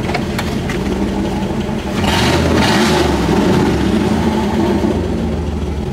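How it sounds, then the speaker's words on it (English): A loud 5.2 V8 engine in a Jeep TJ rumbles steadily up close, briefly revving before settling back to a rough idle with a lifter tick. "Still got the dang lifter tick."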